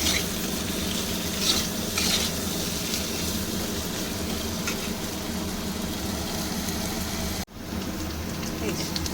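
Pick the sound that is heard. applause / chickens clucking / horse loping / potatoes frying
potatoes frying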